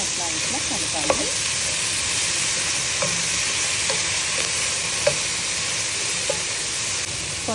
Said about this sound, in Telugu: ఇప్పుడు ఈ పొన్నగంటి ఆకు ఒకసారి అట్లా ఇట్లా కలపాలి